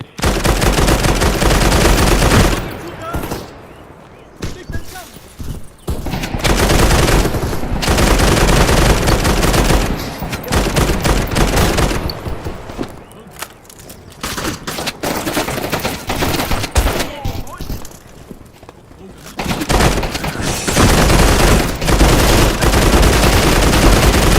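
Sustained loud automatic gunfire in a first-person shooter game, dense bursts filling most of the stretch with brief lulls between volleys, no talk over it.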